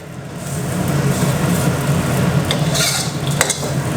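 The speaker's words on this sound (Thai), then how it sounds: "คราวนี้เราก็ผัดให้ใบกะเพรา มันสลดแล้วก็หอมนิดนึงนะครับ" Holy basil leaves are stir-fried in a pan for a spicy field rat dish, with a loud, dense sizzle that runs without a break and brisk scraping strokes near the end.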